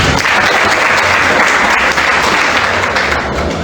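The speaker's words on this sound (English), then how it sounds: "Now you clap for the Lord" A crowd at a student association handover and inauguration ceremony claps for the Lord, dense, loud applause sustained throughout without a break, tapering only slightly at the end.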